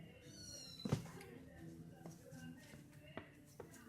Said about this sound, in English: So, Dixie has 5 adorable kittens down here, as you'll see.